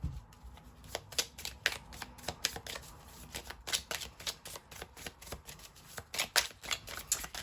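Tarot cards are shuffled and drawn in a quick, crisp run of riffling flicks and soft slaps, close up and fairly quiet, continuing throughout with no talk.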